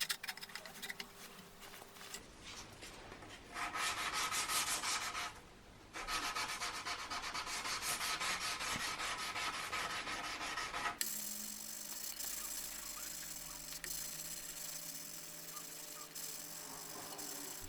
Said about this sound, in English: I also sand it by hand with 300 grit sandpaper, holding the blade in my knife making vise